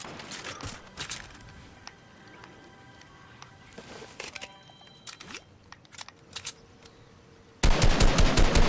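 Guns fire in Fortnite, with scattered single shots and short bursts early on, then a loud, sustained rapid burst of automatic fire at the end.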